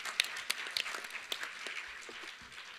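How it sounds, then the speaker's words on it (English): Brief applause from an audience at a talk on gender-responsive justice strategies. It opens with a few sharp, distinct claps, then continues as a softer patter that fades out over under three seconds. "I think you need to receive a hand of applause because you're making a difference."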